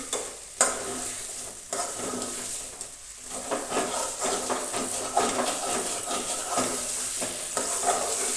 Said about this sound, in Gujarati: બટાટા અને વટાણા આપણે બરાબર હલાવી લઈશું